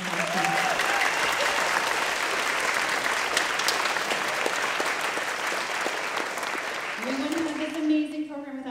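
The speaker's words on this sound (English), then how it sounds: "So give her one more round of applause." An audience at a school fall concert claps loudly and steadily in a sustained round of applause. Near the end the clapping eases off and a voice begins speaking.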